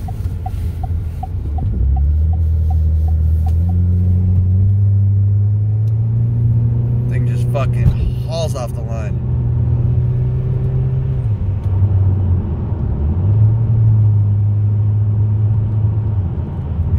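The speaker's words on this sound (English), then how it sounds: "Me, it's just an Escalade V. Just hauling ass." A 2024 Cadillac Escalade V accelerating hard in Texas, its engine rumbling loud and close with rising, shifting revs, no talk.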